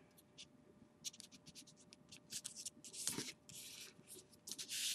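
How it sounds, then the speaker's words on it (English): Paper being folded into an origami flower, soft close crinkles, rubs and sharp creasing scrapes in irregular bursts, quiet overall. "You find that side and you fold it into the center crease."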